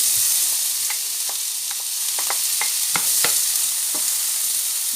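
Red bell pepper hisses in a hot pan for a Thai-style sauce while a utensil scrapes and taps against the pan at irregular intervals over the steady sizzle.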